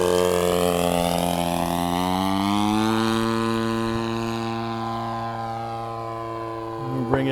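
Legend Hobby Shock Cub model airplane engine in flight, a strong steady buzzing drone whose pitch rises and then slowly falls as it passes, ending with a brief click.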